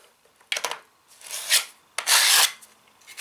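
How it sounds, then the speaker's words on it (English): A putty knife pushes filler into a crack along a staircase string and wipes off the excess, giving a few short scraping rubs, close and fairly loud, with a longer sweep near the end. "back onto the knife, another bead of filler, push it in, wipe any excess"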